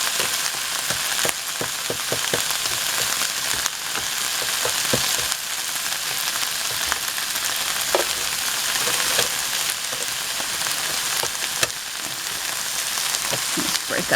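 Frozen rabbit fried rice sizzles steadily and loudly in a pan as ice melts off, with a continuous hiss broken by repeated scraping and clacking stirring strokes throughout.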